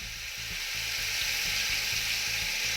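Chicken biryani pieces sizzle in a pot while being stirred up from the bottom: a constant loud frying hiss with regular low scraping strokes from the stirring.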